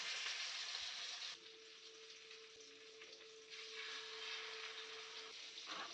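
Fish pieces fry in coconut oil for Kerala-style meen pollichathu, giving a quiet, steady sizzle with a faint hum running through the middle.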